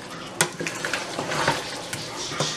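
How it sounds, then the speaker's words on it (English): A spoon scrapes and clatters against a pot while biryani masala spices and tomatoes are stirred in hot oil, with irregular knocks over a light sizzle. "Now I'm going to mix it well until the oil separate"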